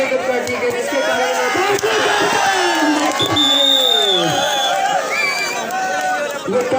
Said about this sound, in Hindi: super red 3 point, super red, तालियां जोरदार